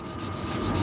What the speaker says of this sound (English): Now I'm just going to switch to my 2000 grit and then my Rid stick. Same thing, I'm just going to go dry on it again.